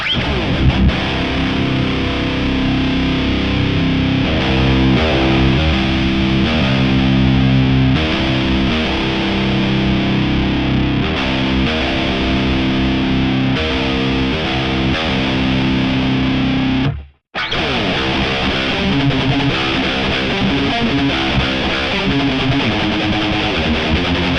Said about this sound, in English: The first of these I have set up is a JVM 410H by Marshall.